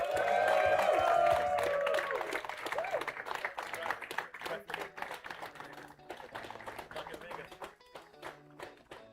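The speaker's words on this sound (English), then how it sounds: "And of course, a great applause from the audience." Audience applause greets the third-place finisher at an esports tournament's Day 2 event, loud at first and then thinning into scattered claps, with a voice heard over it.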